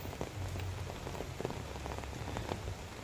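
Steady rain falling outdoors, a dense close patter of drops striking surfaces throughout, with no voices heard.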